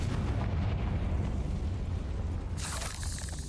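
A Confringo spell blast in a wizard video game: a loud, sustained rumbling explosion with a heavy low boom that fills the whole moment, followed by a brighter crackling burst near the end.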